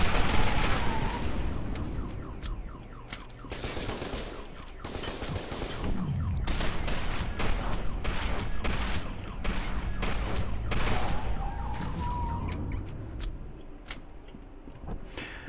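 Gunfire from a favourite weapon in the shooter F.E.A.R. 2: dense bursts of rapid shots crackle repeatedly across the stretch, loud and close, with short pauses between volleys and mechanical clatter underneath.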